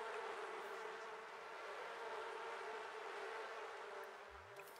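A steady, dense buzz of bees fills a farming video game scene, holding at an even level throughout with faint background sounds and a brief low tone near the end.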